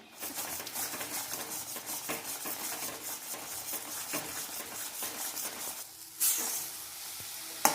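A grated carrot and milk sweet is stirred steadily in a pan, giving a dense continuous sizzle and scraping that runs throughout, with a brief louder clatter near the end.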